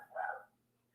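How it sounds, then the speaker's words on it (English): A single short dog bark indoors, faint and somewhat distant, followed by a quiet hum. "Stop barking."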